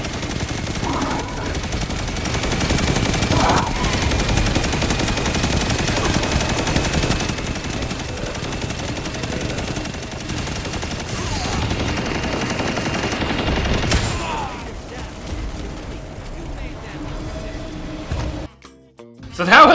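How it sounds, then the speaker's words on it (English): A machine gun fires in the video game Destiny 2 as sustained rapid bursts of loud automatic gunfire with clattering impacts, mixed with game effects, before dropping off sharply near the end. "I've been loving using this machine gun"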